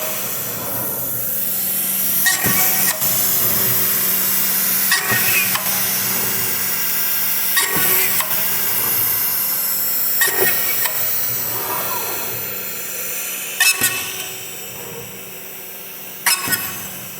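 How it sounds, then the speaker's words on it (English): A ShopSabre CNC router whirs steadily while sharp bursts of drilling through holes sound at regular intervals, each starting and stopping abruptly, loud and close. "And we're drilling through holes."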